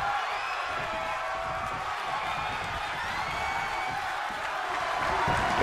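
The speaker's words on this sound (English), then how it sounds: "The sound of this crowd is deafening, and he's asking for more." Loud, sustained roar of a wrestling arena crowd cheering during a six-man tag match, a dense wall of voices and whoops that holds steady throughout with no breaks.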